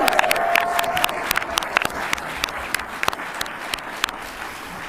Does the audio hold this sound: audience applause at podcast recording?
yes